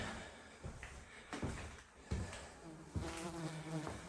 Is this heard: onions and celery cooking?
no